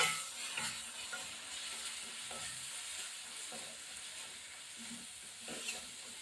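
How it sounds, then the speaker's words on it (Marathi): Cumin powder, coriander powder and red chili powder sautéing together in a pan for a flat-bean sabzi, giving a soft, continuous sizzle with faint stirring scrapes throughout. "सगळे मसाले एकत्र करून छान असे परतून घेऊया"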